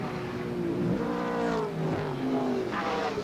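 V8-powered Mazda RX-7 sedan racing at Pukekohe, its engine roaring and shifting pitch as it accelerates past with other race cars, loud and steady for a few seconds without talk.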